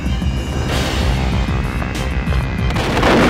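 A gunshot from the Nintendo 64 video game Perfect Dark rings out as a loud, sustained booming blast with a rumbling low end, swelling again near the end.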